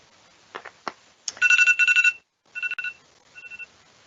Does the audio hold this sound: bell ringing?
yes